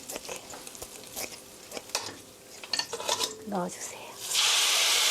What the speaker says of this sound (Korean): 넣어서 당면이 오글오글하게 될 때까지 볶아주세요